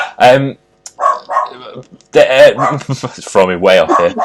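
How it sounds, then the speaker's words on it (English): A dog barks in the background of a rugby league preview show, with several short barks heard beneath continuous close talking. "it wouldn't be a good show without the dog barking"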